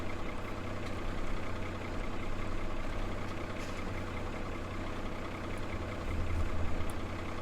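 A new tractor engine in Farming Simulator 17 ticks over at about 2,200 RPM, a steady low diesel drone that holds even and continuous with a slight swell near the end.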